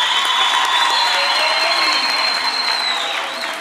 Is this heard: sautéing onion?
no